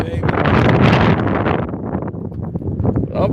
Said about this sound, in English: And the wind is blowing, baby.